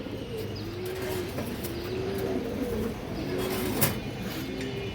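Pigeons coo close by in soft, repeated rolling calls, with one bird's coo following another every second or so over a steady background hum and faint chirps.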